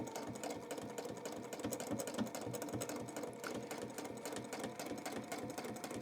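Sewing machine doing free-motion quilting and thread painting, its needle stitching in a fast, steady, even mechanical chatter that runs quietly and continuously throughout.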